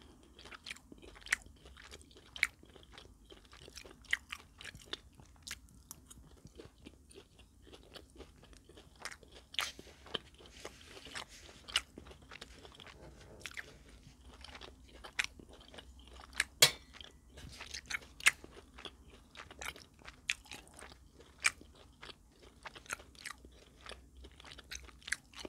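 Close, crisp crunching and wet chewing of a crispy chicken bowl with barbecue-flavored chicken, guacamole and rice, steady bites repeating throughout with no talking.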